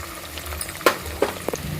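Curry leaves dropped into hot oil with green chillies and onions while making wheat rava upma, a soft sizzle under a few quick scrapes and crackling pops, close and brief.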